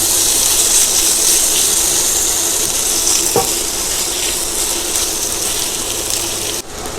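Chicken pieces sizzle loudly in a hot pan with oil for Thai noodles, a dense, constant hiss with one brief clatter partway through before the sound drops at the end.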